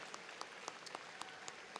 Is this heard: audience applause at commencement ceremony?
yes